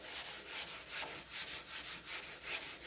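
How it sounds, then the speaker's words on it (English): Primer with a guide coat is sanded by hand on a Honda ATC70 part, a close, steady stroking rasp repeating in a quick even rhythm with no voices. "we've got a guide coat on here, and I gotta say that this is gonna sand down"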